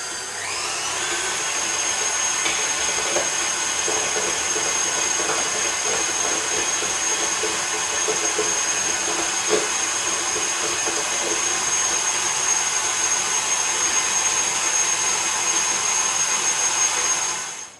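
An electric mixer whips brown sugar and butter for a chocolate brownie batter, producing a loud, continuous high motor whine close by that runs unbroken for the whole stretch before cutting off at the end.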